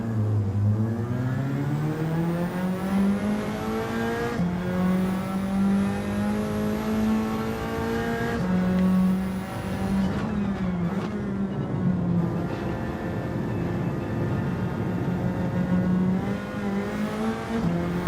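Race car engine in the video game Gran Turismo, a continuous high-pitched whine that climbs and drops with each gear change and throttle lift, loud and close with a faint tire squeal.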